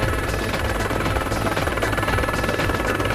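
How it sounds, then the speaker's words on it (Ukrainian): Helicopter flying over snowy ski slopes at Sauze d'Oulx, its rotor and engine a loud, steady, close throbbing roar with no break and no talk. "Це для мене екстрим літання в вертольоті."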